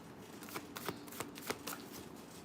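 A deck of tarot cards being shuffled by hand, with quick riffling bursts and soft slaps repeating irregularly, close and quiet, with no voice present.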